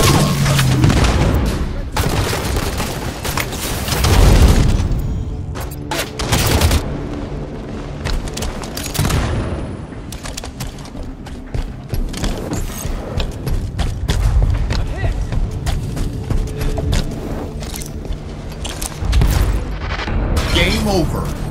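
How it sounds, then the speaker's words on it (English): Gunfire and explosions in the Halo 5 beta multiplayer video game: repeated loud booms and bursts of automatic fire, dense and continuous, with voices and game callouts mixed in. "Contact! Hostile fire!"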